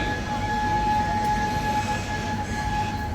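A narrow-gauge steam locomotive, once used on a sugar-factory railway, runs with a loud, continuous rumbling rail roar and two steady whistle-like tones sitting above it, and no pauses.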